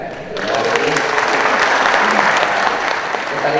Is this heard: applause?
yes